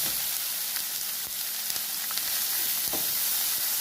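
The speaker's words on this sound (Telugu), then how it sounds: "ఇప్పుడు ఉల్లిపాయలు, తరిగిన ఉల్లిపాయలు వేసుకోవాలి" Chopped onions sizzle in hot oil with fried urad dal for upma, a steady close hiss with a few soft stirring clicks and no talk.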